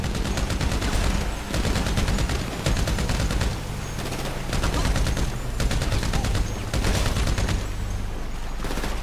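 Sustained gunfire from Grand Theft Auto V during a train salvage mission, dense automatic bursts and overlapping shots forming a loud, continuous barrage with rumbling impacts underneath.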